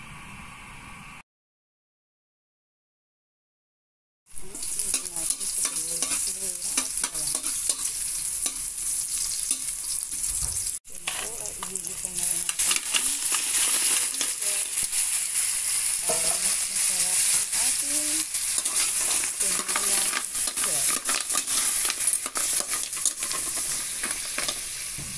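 Seashell tinola cooking in a pan, with a constant loud sizzle of frying and repeated scraping stirring strokes running for a long stretch after a brief silent gap near the start, no voices.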